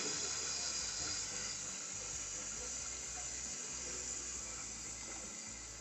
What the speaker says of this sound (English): Water is filling up.